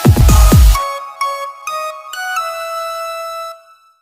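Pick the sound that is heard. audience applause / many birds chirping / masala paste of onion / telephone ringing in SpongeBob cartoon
telephone ringing in SpongeBob cartoon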